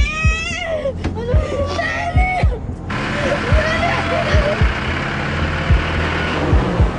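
A car carries an injured teacher to the hospital, its engine a low steady rumble with rhythmic thumps throughout, while a voice cries and whimpers loudly over it early on.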